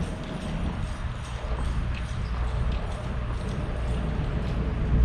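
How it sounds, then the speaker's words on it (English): A horse and buggy clip-clops past at Iolani Palace in Hawaii, loud and close, with steady rhythmic hoofbeats and rolling wheel noise throughout. "Horse and buggy!"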